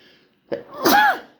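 A child sneezes once during a primary school assembly, with a short sharp intake followed by a loud burst, fairly close and alone.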